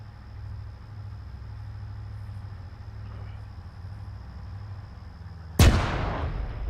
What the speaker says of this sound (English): We had explosions up here at the front of the column.